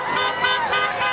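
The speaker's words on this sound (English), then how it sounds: "They also like to honk their horn." A vehicle horn honks at a Fourth of July parade in Ketchikan, Alaska, one sustained loud blare with a slight pulsing waver, close by.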